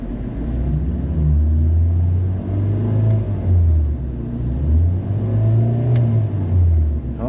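A car engine idles in park and rises and falls with blips of throttle, a low rumbling drone swelling and easing several times, fairly loud and close.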